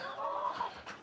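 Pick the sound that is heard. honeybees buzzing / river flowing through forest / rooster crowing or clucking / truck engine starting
rooster crowing or clucking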